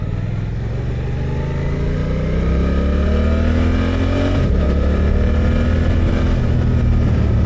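A Suzuki GSX-8R motorcycle accelerates steadily on a national speed limit road, its engine note climbing through the revs, with a brief shift and then a continued rising pull, loud and close throughout.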